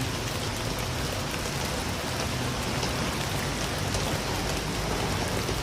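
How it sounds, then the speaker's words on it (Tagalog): Heavy rain pours down in Singapore, a dense, constant roar of drops hammering surfaces close by, unbroken and loud throughout. "ang lakas na naman ng ulan mga ka-OFW dito sa Singapore"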